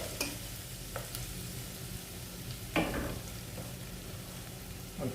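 A steady sizzle of onions frying in a pan for chickpea curry, with a few sharp scraping stirs cutting through the crackle.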